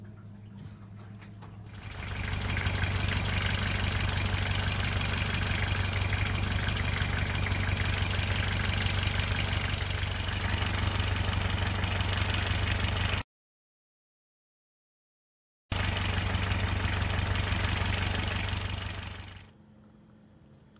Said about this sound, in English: when I fire up the engine in a moment